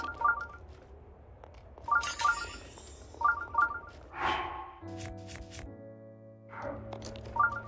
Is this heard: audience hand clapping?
no